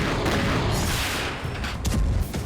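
Loud, chaotic booming bursts and crackling blasts from missile and air strikes in the Russia-Ukraine war overlap in a dense roar, with a few sharper reports punching through near the end.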